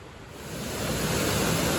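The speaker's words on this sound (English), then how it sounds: "Yeah, another wee waterfall there." A small waterfall in a glen: rushing water roars continuously and grows slightly louder, a broad steady wash of falling water close by.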